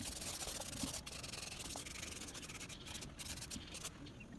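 Paper is rubbed briskly to clean excess off Arabic calligraphy, a continuous close scratchy friction with brief pauses, heard alone without talk.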